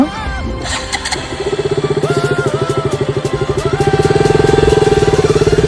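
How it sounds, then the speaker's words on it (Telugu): A motorcycle engine cranks with a few uneven sputters, then catches and settles into a steady, loud, close pulsing idle that grows a little stronger toward the end. "సో బైక్ స్టార్ట్ చేయడం."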